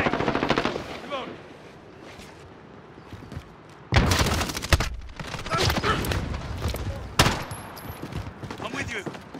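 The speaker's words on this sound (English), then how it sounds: "I'm taking fire!" Rapid automatic gunfire and explosions in Call of Duty: Modern Warfare, loud close bursts of machine-gun fire crackling in long runs with heavy booms and brief lulls, voices shouting over the combat.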